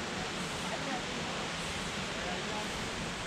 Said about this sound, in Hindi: वहाँ से जो ऊपर से झरना आ रहा